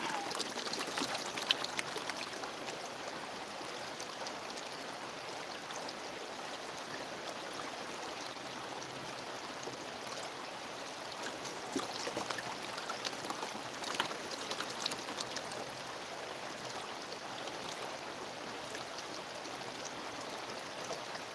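Creek water sloshes and swirls in a gold pan at Yahoola Creek Park, a soft continuous trickling wash with slight surges, fairly quiet and close, with no talk.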